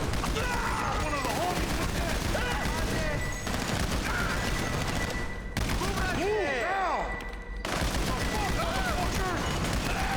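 Gunfire in Grand Theft Auto Online crackles continuously as dense, sustained bursts, loud and close throughout, with brief lulls and game effects layered in.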